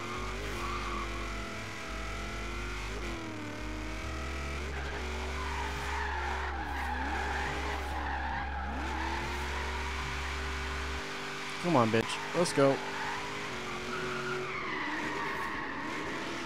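Tires squeal and skid as a Subaru SVX fitted with a V8 drifts in Forza Horizon 3, a steady engine drone underneath with a few sharp skid bursts near the end, and someone talking briefly over it.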